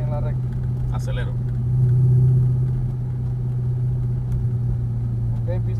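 An exotic car's engine drones steadily at a racetrack, a loud low rumble that swells briefly as it accelerates, with people talking over it.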